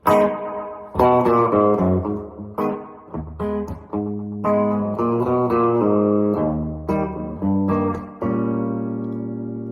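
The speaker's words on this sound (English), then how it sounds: "It's like a spring reverb." Electric guitar notes and chords ring through a Nobels Mini pedal's springy, splashy spring reverb, with sustained tails washing between phrases.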